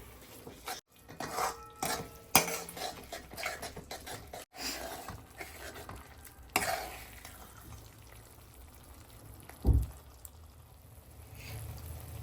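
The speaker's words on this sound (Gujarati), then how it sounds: "આ કિચન કિંગ મસાલો છે હવે આને મિક્સ કરીએ" Tuvar totha curry being stirred with kitchen king masala in a pot, with irregular scraping and clinking of a spoon against metal and a soft thud near the end.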